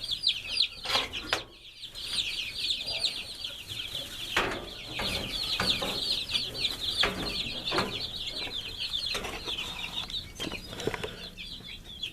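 Cornish Rock chicks peep constantly under a heat lamp, a dense, high chorus of overlapping chirps with scattered bumps and rustles, fairly faint and steady with no talking.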